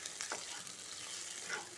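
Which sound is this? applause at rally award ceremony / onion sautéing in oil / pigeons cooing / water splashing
onion sautéing in oil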